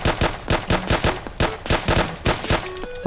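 Rapid bursts of gunfire blasting skeletons in a Minecraft Doom-style mod, loud, close and evenly spaced shots in a fast rhythm, with no talk.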